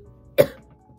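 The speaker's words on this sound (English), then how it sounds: "I cough in between" A single sharp, close cough from a person smoking a bowl, one brief harsh burst that fades quickly into near silence.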